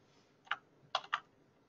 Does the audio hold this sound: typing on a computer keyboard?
yes